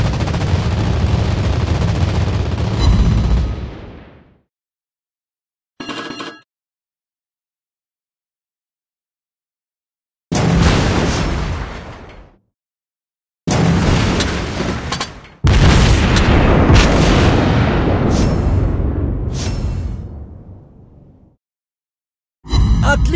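Naval guns fire in World of Warships Blitz, with a Soviet tier VIII battleship Lenin in play: a series of loud booming salvos and blasts in separated bursts, each decaying into silence, some dense and rumbling.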